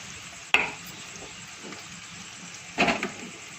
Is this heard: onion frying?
yes